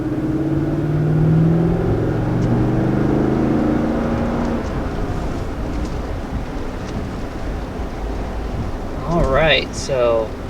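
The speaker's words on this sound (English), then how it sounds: "first acceleration in the 2020 GX 460" A 2020 Lexus GX 460 SUV accelerates with an engine note that rises and swells over the first few seconds, then settles into steady road and wind noise heard from inside the cabin, with a brief voice near the end.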